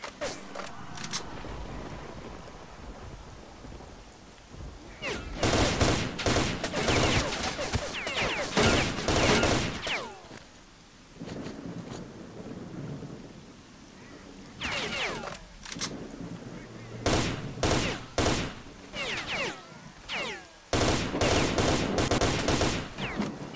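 Bursts of automatic gunfire in S.T.A.L.K.E.R. Shadow of Chernobyl, loud clustered volleys separated by short quieter gaps, with a few single shots in between.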